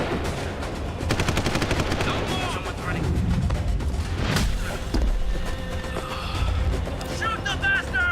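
Rapid bursts of gunfire in the Deus Ex: Human Revolution video game, with booming shots mixed into dense game sound and voices talking over the action.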